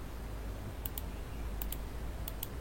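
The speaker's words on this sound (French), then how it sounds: "dans mon clavier je vais appuyer sur entrée" Keys on a computer keyboard click sharply in three quick pairs of taps over a steady low hum, close and faint.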